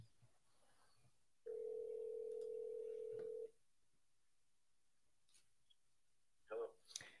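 A telephone put on speakerphone emits a steady, clear tone for about two seconds, with faint clicks and room noise around it.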